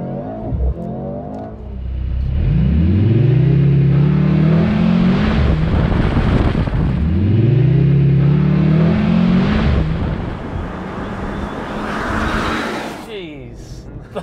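Mercedes C63 AMG accelerating hard from a race start, loud and close, with two strong rising engine sweeps as it climbs through the gears, then a drop to a lower rumble, with brief speech near the end.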